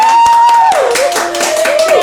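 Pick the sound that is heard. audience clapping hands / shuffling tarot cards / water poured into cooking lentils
audience clapping hands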